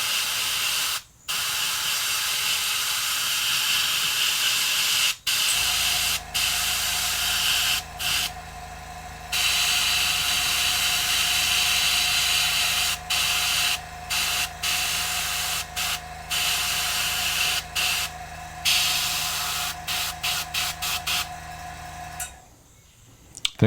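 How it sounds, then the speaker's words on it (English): An airbrush sprays transparent red paint onto a fishing lure in long continuous hissing bursts, loud and close, broken by brief stops and short trigger taps, with a faint steady compressor hum underneath. "before we do the black, we're going to spray the mouth and some transparent red."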